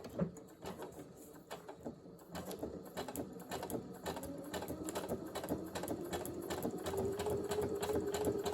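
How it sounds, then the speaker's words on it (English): A sewing machine stitches a line through foundation paper piecing for a quilt block. It runs in a steady close-up mechanical patter that builds slightly toward the end, with no voices. "So now I'm going to stitch on this line between C1 and C2."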